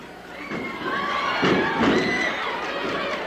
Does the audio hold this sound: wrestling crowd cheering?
yes